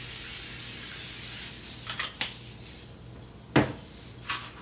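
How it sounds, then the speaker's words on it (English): A hissing spray of cooking spray onto a 17 by 12 baking sheet for focaccia lasts about a second and a half, followed by a few soft taps and clanks of the metal pan. "we spray it with some cooking spray"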